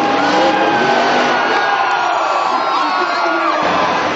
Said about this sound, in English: I'd describe them as cheerful and really a screaming crowd